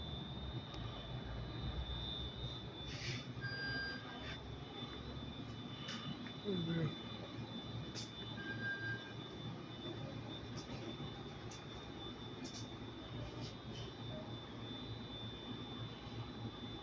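A metro train in Saudi Arabia runs with a steady, muffled rumble and whine heard from on board, faint and continuous over the whole stretch, with a few brief beeps and clicks along the way.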